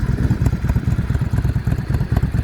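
A 2000 Yamaha V-Star 650 motorcycle engine runs close by with a loud, even, throbbing low pulse, steady throughout with no voices.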